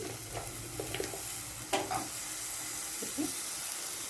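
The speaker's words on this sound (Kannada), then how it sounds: "ನೋಡಿ, ತೆಂಗಿನಕಾಯಿನ ಹುರ್ಕೋತಾ ಇದ್ದೀನಿ." Grated coconut roasting in a hot pan for sambar masala, a soft steady sizzle broken by a few scraping stirs, close and moderately quiet, with no talk.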